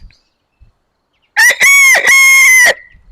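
Rooster crowing at close range on a farm near an apiary: one loud, full cock-a-doodle-doo in three drawn-out bursts, preceded by near silence.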